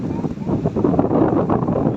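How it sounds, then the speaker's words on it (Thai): Strong wind buffets the microphone beside a reservoir during night bank fishing, a steady low roar that swells and gusts throughout with faint voices mixed in. "ดู สิ ลม โคตรแรงขึ้นเดี๋ยวก็อยู่ ทะเลครับ"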